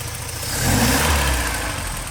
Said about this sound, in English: here's the engine running happily